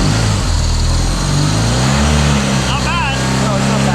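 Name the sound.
BMW HP2 motorcycle engine running and revving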